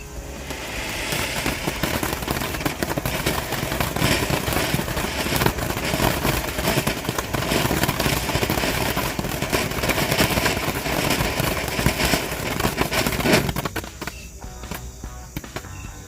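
A cheap fontaine fountain firework burning at night, a dense continuous crackling hiss with rapid popping for about thirteen seconds, then abruptly dying down to quieter sputtering.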